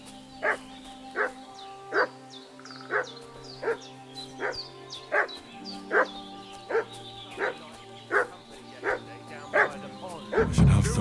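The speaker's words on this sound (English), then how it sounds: "What's that dog making such a fuss about?" A dog in the video game Kingdom Come Deliverance II barks steadily and insistently, about a dozen sharp barks at an even rhythm over low ambient game sound.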